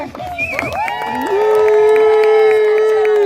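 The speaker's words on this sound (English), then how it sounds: "Let's have one more big round of applause for both of your lumberjacks." The crowd at a lumberjack show cheers and applauds loudly, with one long, sustained whoop ringing out over the noise.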